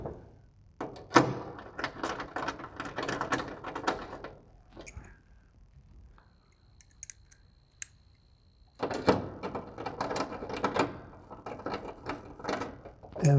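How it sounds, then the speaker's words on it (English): A ratchet clicks rapidly as it tightens the aerodynamic panel bolts on an Aston Martin DB9, two close bursts of fast ratcheting separated by a quiet pause with a few faint clinks. "The last bolts we have to put back in are the 2 aerodynamic panel bolts we took off."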